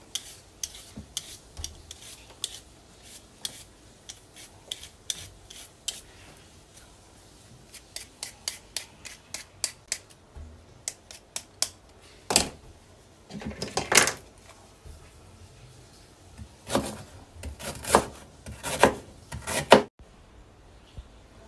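Knife scraping and peeling fresh ginger in a home kitchen while cooking Cameroon beans, heard as a run of short, dry, close-up scrapes in quick bursts with pauses, no talking.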